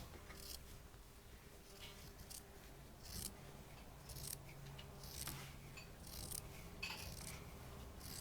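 Scissors cut out a cloth pad, the blades snipping in quick irregular bursts close by and quiet against a faint room hum.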